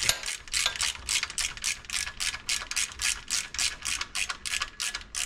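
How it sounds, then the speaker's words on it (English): Ratchet wrench tightening a bolt on a car pulley assembly on an '86 Z, with rapid, steady clicking strokes repeating close by and alone throughout. "I'm going to tighten all the way up. I'm just going to snug it up."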